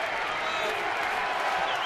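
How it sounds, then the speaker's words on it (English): A large baseball stadium crowd at a Los Angeles at Arizona game in September 2012 roars in a dense, loud, continuous wash of cheering and noise. "And the crowd starts to pick up with the noise."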